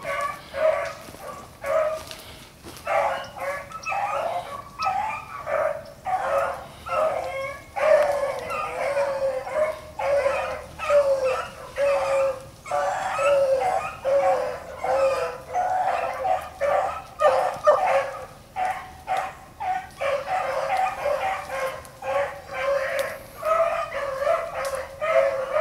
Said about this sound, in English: The other dogs are running another rabbit and these pups are on there.